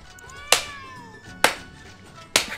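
A cat named Muffin in the video game 1bitHeart gives a drawn-out meow amid three sharp, evenly spaced thumping hits as she is petted roughly.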